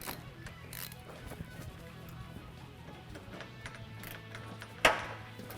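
Bolts being tightened down in sequence with a ratchet in a garage: soft, steady clicking under a low hum, ending in one sharper metallic snap near the end.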